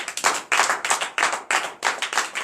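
A church congregation at a night deliverance service in Comè, Benin, claps in acclamation of the Lord, in rhythmic bursts of group clapping that pulse in short phrases with brief gaps, close and moderately loud.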